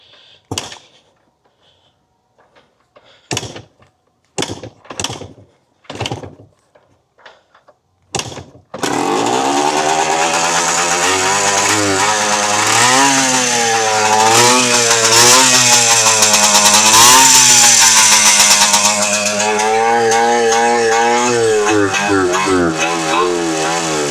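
A Yamaha IT 250 barn-find dirt bike with a carburetor needing work is kicked over several times with short coughs, then fires and runs loudly, its two-stroke engine revving up and down unevenly for the rest.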